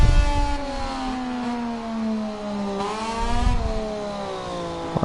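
A high-revving racing motorcycle engine drones steadily on a track during a practice session, with shifting pitch, held at speed, rising and dipping as it runs.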